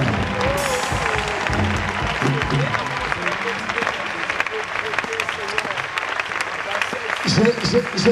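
Church congregation at an evangelical worship gathering applauding and cheering in a steady, dense wash, with a preacher's amplified voice and music continuing through it.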